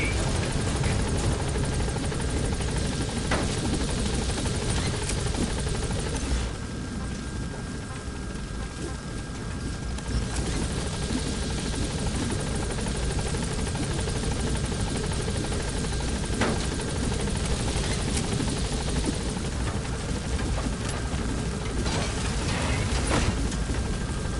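The Pequod helicopter holds at a landing zone in Metal Gear Solid V, a loud steady rotor drone and engine whine that fills the whole stretch, with a few mechanical clicks and a brief dip in intensity partway through.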